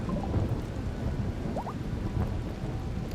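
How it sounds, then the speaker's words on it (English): Thunderstorm in the colony game RimWorld, a deep low rumble of thunder rolling under steady rain patter, continuous and fairly loud, with no talking. "Ooh, flash storm."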